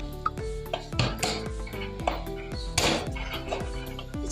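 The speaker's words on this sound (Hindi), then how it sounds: "इसका ढकना बंद करने लगे।" Metallic clanks and scraping as a pressure cooker lid is fitted and locked shut, close and clattery with ringing pot tones.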